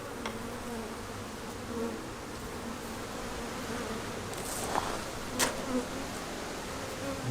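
Steady, dense buzzing of many honeybees close by, a continuous drone with a few brief louder swells, no voices.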